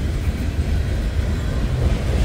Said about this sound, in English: I got the steel coil train